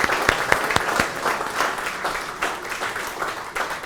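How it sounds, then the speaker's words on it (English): Audience applause for a World War II merchant marine veteran, dense clapping that starts with a few sharp claps and settles into a steady, close round of hand claps. "If we could all just give him a round of applause."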